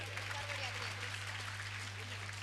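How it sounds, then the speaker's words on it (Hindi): Audience applause fills a school annual function hall, a dense, continuous clatter of many hands clapping at steady loudness under a constant low hum. "बच्चों जोरदार तालियां बजाइए"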